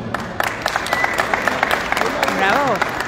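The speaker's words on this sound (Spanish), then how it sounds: "quiero que por favor brindemos un fuerte aplauso para Raúl Alcalá" Crowd applause at the 2022 Bici Expo in Mexico City's World Trade Center, scattered claps in a busy hall with a voice cutting through near the end.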